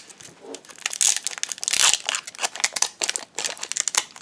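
A Chinese-language Pokémon booster pack, part of a full Insurrection box, is torn open at close range, with bursts of crisp foil crinkling and ripping and a sharper tear midway, loud and alone.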